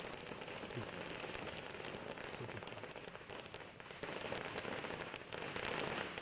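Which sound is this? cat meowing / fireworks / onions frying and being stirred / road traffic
fireworks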